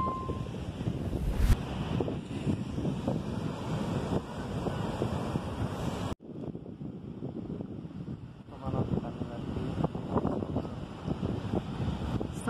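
Strong wind buffets the microphone on a beach at Vila do Conde, Portugal, with waves rushing and breaking underneath in a constant loud roar, briefly cut near the middle.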